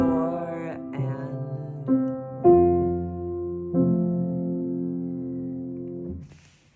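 A solo piano plays a phrase from Schumann's Träumerei, slowing into a retard with broadened subdivisions: a handful of spaced, ringing chords that grow further apart and then let the last one sustain and fade.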